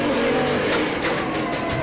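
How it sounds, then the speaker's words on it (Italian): A small motor scooter revs up and pulls away, its engine noise loud and steady throughout the short stretch with no voices over it. "Adesso parte sto motorino del cavolo."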